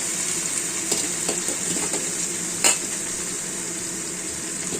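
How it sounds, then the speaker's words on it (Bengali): Drumstick flowers fry in a pan with a steady bright sizzle of hot oil, broken by a few clinks and stirring scrapes of a spatula against the pan, close and constant throughout. "এবার আমি ফুলটা দিয়ে দিচ্ছি সজনা ফুলটা"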